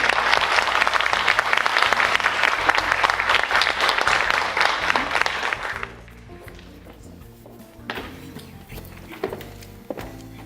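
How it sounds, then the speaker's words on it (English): A conference audience applauds loudly and steadily in a hall at a brunch event for a speaker being welcomed, the clapping dense for about six seconds before dropping to scattered claps and room noise. "So I want you all to join me with a round of applause"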